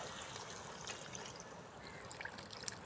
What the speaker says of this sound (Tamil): இப்போ கொஞ்சம் தண்ணி ஊற்றுவோம்